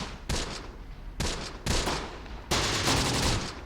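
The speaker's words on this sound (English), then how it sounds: "We're going to fire over there on the right side, just to hit any enemies that could potentially flank us with machine gun fire." Machine gun fire rattles in the World War II strategy game Close Combat, several loud dense bursts of rapid shots that follow each other with short breaks.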